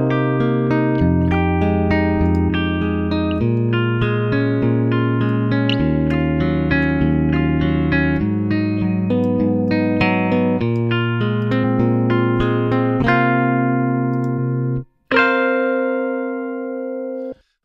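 Electric guitar through an amp simulation with an emulated Royer 121 microphone plays a melodic riff of ringing notes, clear and upfront, ending on a sustained chord after a brief break.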